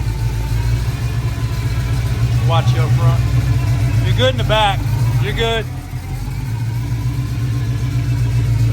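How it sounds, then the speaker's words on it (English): A truck engine with a gear drive runs close by, a steady low mechanical rumble with slight rises. People talk over it. "That's a good sounding truck. Definitely has a gear drive under the hood."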